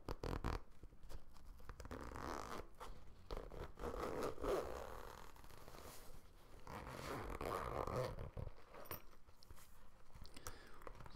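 Zippers on a toilet bag being pulled open and closed, close-up rasping zips with soft handling scrapes and rustles of fabric in between, quiet and intimate without talk.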